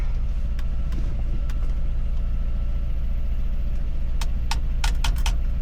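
A 1938 Ford F1 truck engine runs at a steady, low idle, heard close and continuous. A few sharp clicks and taps sound near the end.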